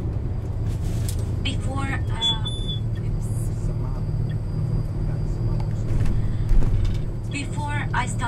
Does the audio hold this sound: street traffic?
yes